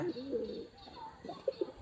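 Domestic pigeon cooing in a few low, throaty phrases close by, the last three short coos spaced out near the end, with a faint background hum.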